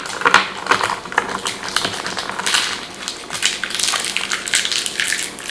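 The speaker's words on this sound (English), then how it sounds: "I will just take some tape, put all of the screws and stuff on that tape" Packing tape handled by hand and wrapped around loose screws, close crinkling, tapping and sticky peeling crackles in irregular bursts, with small rattles of hardware throughout.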